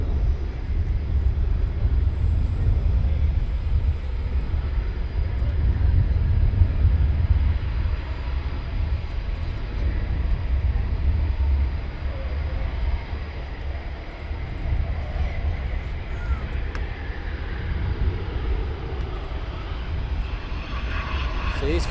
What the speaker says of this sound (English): So 2 jets of 41 Squadron now taxiing down.